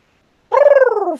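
A single short, rasping screech of the frilled, spitting dinosaur from Jurassic Park, with a throaty, fluttering rattle, loud and close, lasting under a second.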